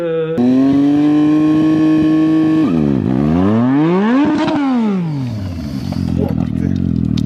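A motorcycle engine screams at high revs while the rider accelerates and brakes at once for a rear-wheel burnout, loud and close. The pitch dips, sweeps up and falls again before ending in rough clattering and scraping.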